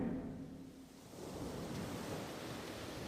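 Ocean surf washing onto a seashore at evening, a steady broadband roar of breaking waves that swells slightly after the first second and holds, moderately loud and continuous with no voices.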